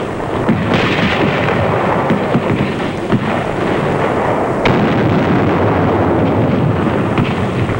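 A World War II artillery barrage fires before the Kwajalein landing in the Marshall Islands in 1944, a loud, continuous rumbling roar of massed guns with heavier booms rising now and then.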